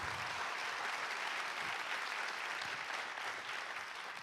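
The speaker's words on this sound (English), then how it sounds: "let's give them another round of applause" Audience applause at a nonprofit pitch showcase event, a dense steady wash of many clapping hands, sustained and even for several seconds with no speech over it.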